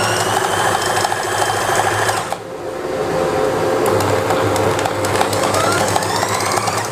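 A sewing machine stitches a shirt seam, its motor running in a steady continuous whir with a dense mechanical buzz, briefly easing off once before resuming at full pace.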